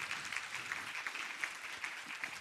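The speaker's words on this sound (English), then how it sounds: "Keep clapping." An audience claps at a talk on neurodiversity and attitudes in practice: a fairly faint, dense patter of many hands, steady throughout, with no talking.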